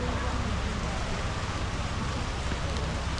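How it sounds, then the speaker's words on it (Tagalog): Steady rain falling at the Puerto Princesa Underground River in the Philippines, a constant hiss of drops on surfaces, fairly loud and even from start to finish. "Medyo mihila na ng konti yung ulan."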